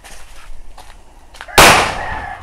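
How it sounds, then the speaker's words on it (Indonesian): A firecracker bursts inside a motorcycle exhaust pipe, one sharp loud bang after quieter background rustle, with a short ringing tail fading off. "Nyumet mercon di dalam knalpot guys, mantap sekali."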